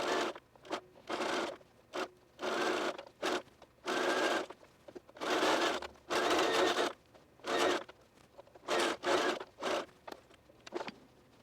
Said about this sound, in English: baste along the waist seam there